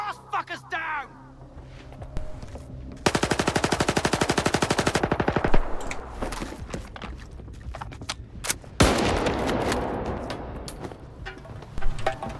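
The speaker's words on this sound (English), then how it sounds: "Who's he shooting at?" Stalker 2 video game gunfire with a long, fast automatic burst of machine-gun shots followed by scattered single reports and rumbling impacts. A person speaks and breathes heavily between the shots.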